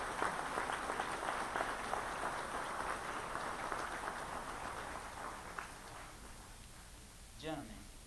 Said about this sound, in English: Please give these gentlemen a great round of applause.